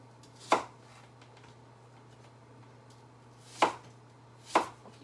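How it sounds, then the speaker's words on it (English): Apples being chopped on a cutting board for apple pie: three sharp, separate knife thuds, one early and two close together near the end, over a low steady hum. "This is how I like to chop for my apple pies also."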